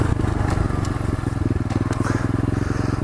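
Pit bike class dirt bike engine revving steadily up close, a loud continuous pulsing buzz with a rapid firing rhythm throughout, plus faint clatter on top.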